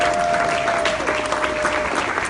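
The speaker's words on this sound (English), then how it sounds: "Let's give him a round of applause." Audience applause at a grassroots political rally, a brief burst of steady clapping from a crowd, fairly loud and even throughout, with no talk.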